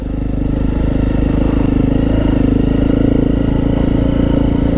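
Motorcycles ride along a wooded byway in Surrey, giving a loud, continuous engine drone with rough clatter from the track throughout, close to the listener. No one speaks over it.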